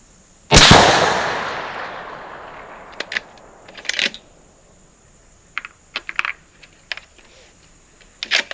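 A single loud, close rifle shot from a custom Savage 110 in 6.5 Creedmoor firing Sierra MatchKing 140 gr loads with a 40.9-grain charge, with a long booming decay, followed by scattered clicks and clinks of the action and brass.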